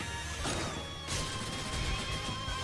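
A Sword Soul attack lands in the mobile game Langrisser M, with two sharp crashing impacts about half a second apart over a dense, steady bed of game effects and music.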